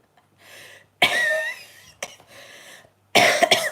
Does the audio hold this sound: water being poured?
no